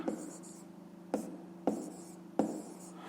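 Pen strokes writing a fifth-grade math exercise on paper: four short scratchy bursts over a steady low hum, quiet and close.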